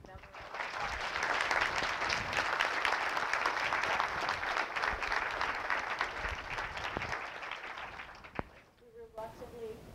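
An audience applauds steadily at a retiring professor's last lecture, a dense sustained wash of clapping that fades out near the end before a voice begins speaking.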